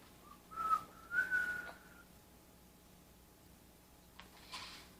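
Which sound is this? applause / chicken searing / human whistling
human whistling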